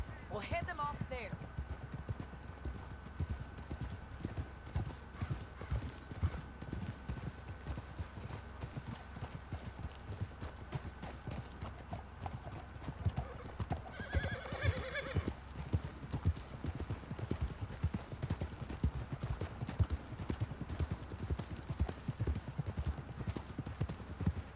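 Steady clip-clop of horse hooves trotting throughout in the video game Red Dead Redemption 2, with a brief whinny partway through and voices talking over the hoofbeats.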